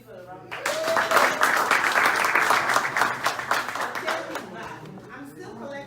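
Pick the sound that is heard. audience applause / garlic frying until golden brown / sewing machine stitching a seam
audience applause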